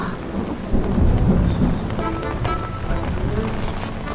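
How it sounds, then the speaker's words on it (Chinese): Rain falling with rolling thunder in a period-drama outdoor scene; low, heavy thunder rumbles swell early and then linger under the steady patter of rain on surfaces. "怎么下雨了？"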